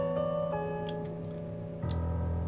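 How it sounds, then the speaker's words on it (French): Steady clock ticking from the video game To the Moon, a regular tick-tock pulse over a sustained harmonic music bed that swells louder near the end. "ce tic-tac est plutôt agaçant"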